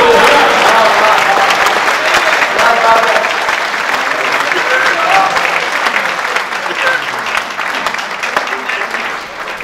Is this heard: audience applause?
yes